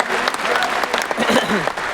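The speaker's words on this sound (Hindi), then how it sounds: "एक बार तालियां हो जाए इन डायनेमिक लीडर्स के लिए" A stadium audience at the IMC Lakshya 2026 event in Thyagraj Stadium, New Delhi, applauds company leaders with dense, loud, steady clapping, while voices carry over the applause.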